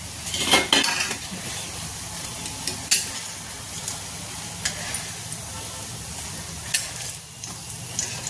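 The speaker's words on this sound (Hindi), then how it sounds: "अब इन पकौड़ियों को भी हम निकाल लेते हैं और गैस को कर देते हैं बंद" Hot oil sizzles steadily in a kadhai as fried singhada flour pakoras are lifted out, with sharp metallic clinks and scrapes of a slotted spoon against the pan at irregular intervals.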